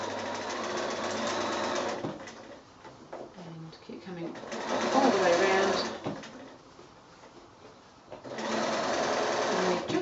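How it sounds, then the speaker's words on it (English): A sewing machine stitches around the edge of a small fabric quilting bag made from squares, running in three bursts of steady buzzing with quieter pauses between them, where a voice talks. "just stitching right across so that those edges are nice and level"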